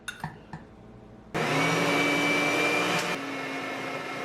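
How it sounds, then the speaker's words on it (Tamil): An electric grinder grinds sugar into powder, starting after a few light clicks and then giving a steady, loud whirring drone for about three seconds before settling to a slightly lower hum. "இப்போ இதை இந்த கிரைண்டர் போட்டு நல்லா பட்டை அரைக்க போறேன்"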